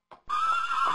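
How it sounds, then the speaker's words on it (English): A horse neighs loudly and close by, a single long whinny with a bright, wavering pitch, following a brief softer snort. "He was riding on a big black horse."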